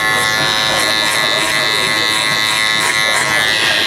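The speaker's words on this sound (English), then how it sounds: "using the cocoa clippers, go all the way up" Cocco hair clippers hum in a loud, continuous buzz close to the ear while they run up through a kid's hair during a haircut.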